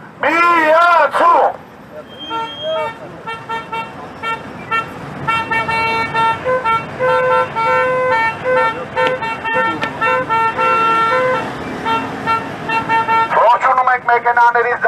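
Car horns honk at a street protest outside the US embassy, a long run of overlapping toots and blasts of varying length, loud and close, with voices in the crowd.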